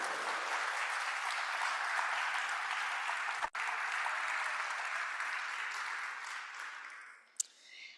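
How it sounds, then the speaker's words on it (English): An audience at a memorial lecture applauds the volunteers, warm even clapping from a seated crowd that holds steady for several seconds, briefly dips, then tapers off near the end. "Perhaps we'll give a round of applause for the volunteers."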